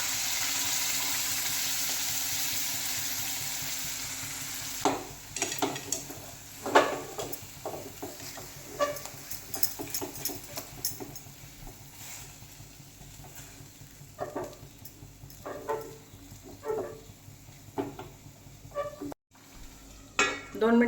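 Gravy is poured into frying homemade masala for Paneer Angara and stirred, producing a continuous sizzle with repeated spatula scrapes and clatters against the pan, some wet bubbling, heard close and without talking.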